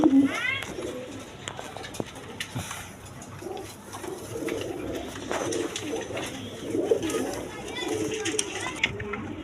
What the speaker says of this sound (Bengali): এখানে এক পেয়ার গররা কবুতর আছে দেখেন